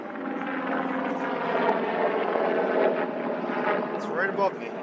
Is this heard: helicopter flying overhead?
yes